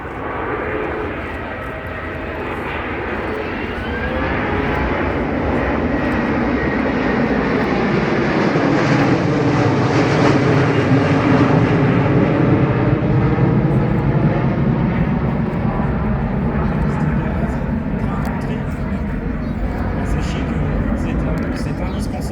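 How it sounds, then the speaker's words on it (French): An Airbus A330 Phoenix military tanker passes at low speed with landing gear down at an air show, a loud continuous jet roar that swells toward the middle and slowly fades, with a commentator talking over it. "Airbus A330 Phoenix à basse vitesse devant vous"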